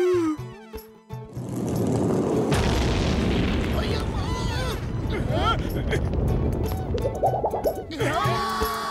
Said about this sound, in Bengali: সব রকেটগুলো একসঙ্গে জ্বালিয়ে দিয়েছে।